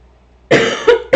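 A few coughs from a single person on a livestream, close to the microphone: one longer coughing burst followed by two short coughs after a quiet start.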